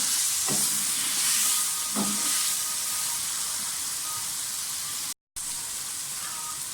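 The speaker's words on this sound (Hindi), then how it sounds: "सब कुछ फ्राई हो गया है, आलू और टमाटर और गाजरें।" Steady broadband sizzle of potatoes, tomatoes and carrots frying in a pan, with a couple of soft stirring clinks and a brief dropout near the end.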